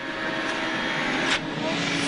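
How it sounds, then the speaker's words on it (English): A WRC rally car at Rally Mexico 2011 runs flat out in sixth gear toward a jump, its engine a steady, dense roar held at full throttle with no lift, loud and continuous from start to finish. "He's rapidly bearing down on that jump now, completely nailing it in 6th gear"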